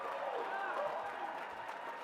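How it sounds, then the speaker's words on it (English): Audience applause at a political gathering, a brief steady patter of clapping hands from a crowd, moderately loud and filling the short stretch. "Please give them a huge round of applause."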